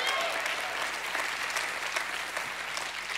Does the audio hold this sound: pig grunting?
no